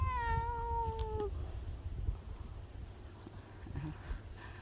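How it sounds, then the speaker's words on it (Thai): A cat gives a clear, drawn-out meow close by, a single rising-falling call lasting about a second over steady wind and outdoor background rumble, with no talking. "เอาน้องแมวมาให้เบิ่งค่ะ"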